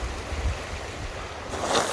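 A shallow, foot-deep river flows through a volcanic canyon on La Palma, a steady close rush of water with some low rumble, no voices.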